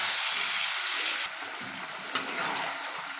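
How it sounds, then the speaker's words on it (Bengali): Chicken pieces fry in mustard oil over a low flame with a steady, close, broadband sizzle; a sharp stirring clack comes about two-thirds through, then the hiss continues. "এবারে লো ফ্লেমে ভালো করে কষবো"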